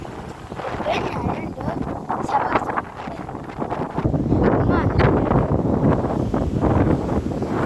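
Steady sea wind at a beach buffeting the microphone, loud and continuous, with a voice speaking briefly over the gusts.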